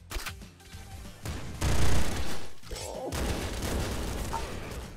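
A spiral slashing shotgun fires in the video game Nuclear Throne, loud clustered blasts and rattling bursts of gunfire that come in waves and merge into a dense, continuous barrage.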